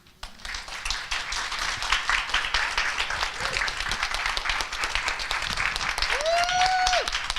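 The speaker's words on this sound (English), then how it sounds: "One more big round of applause." An audience applauds and cheers after a talk on self-love, dense clapping building quickly and holding steady, with a few voices calling out and a whistle rising near the end.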